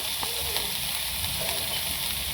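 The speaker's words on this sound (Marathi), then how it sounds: "कोथिंबीर याच्यातच टाकली ना चांगली भाजी मस्त होते। चांगली तेलात परतून घ्यायची।" Tomatoes and coriander fry in hot oil for a homestyle spicy sandge curry, giving a steady close sizzle with faint stirring scrapes and no talking.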